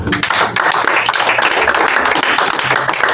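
A church congregation applauds, a dense, loud burst of many hands clapping together in sustained rhythmic waves, with scattered voices mixed in.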